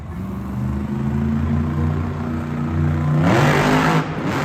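Ashley Sanford's monster truck at a Monster Jam event in Tacoma revs its engine before a backflip attempt: a steady, loud, throaty idle that surges into a sharp, roaring rev near the end.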